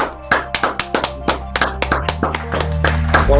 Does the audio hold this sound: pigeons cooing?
no